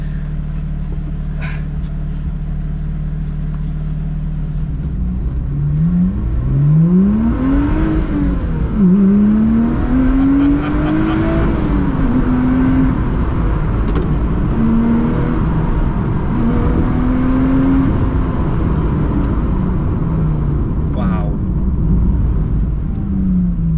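A Lotus Exige 350 Sport engine revs and pulls hard through gears, pitch sweeping up and dropping at each shift, loud and steady throughout with road and cabin rumble underneath.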